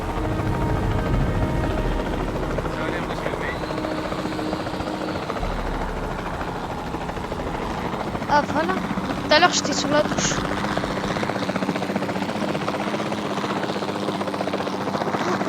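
A helicopter in the video game Jurassic World Evolution 2 drones with a steady, loud rotor buzz throughout, under someone talking in the foreground.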